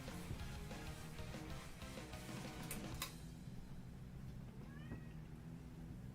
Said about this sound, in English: it's possible you hear the cat outside too